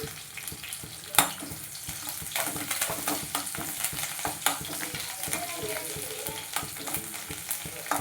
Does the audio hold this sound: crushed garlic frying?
yes